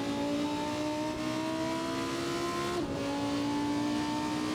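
Loud 640-horsepower car accelerating through a hot lap, its engine note climbing steadily, briefly dipping at a gear change, then pulling again, close and continuous with no voices.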